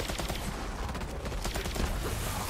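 Dense, continuous gunfire from a weapon in the video game Borderlands 3 on PS5, a loud unbroken stream of rapid shots filling the whole moment with no pause.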